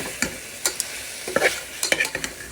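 Meat with onion and tomato cooks in a pan, heard as a soft steady sizzle broken by several clinking stirs of a utensil against the pan, close and without talk.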